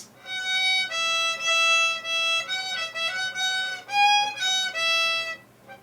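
An adult beginner plays slow violin pitch exercises, a steady run of sustained bowed notes that change pitch in sequence, close and fairly loud with no talking.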